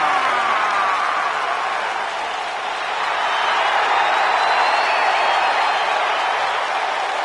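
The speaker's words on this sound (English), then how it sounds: "Clap for your longest reigning tag champs and feel the power!" Steady, loud crowd applause and cheering fill a WWE 2K wrestling arena as a tag team champions' entrance plays, a continuous roar with no gaps and no talk over it.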